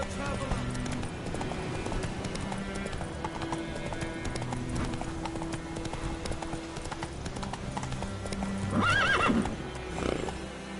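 A horse's hooves clip-clop steadily in The Witcher 3, with a sharp whinny near the end, under ambient game sounds and brief voices.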